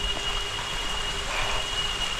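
Steady rain falling near the Sohosrodhara waterfall at Sitakunda, a continuous dense hiss with an even wash of drops and no voices.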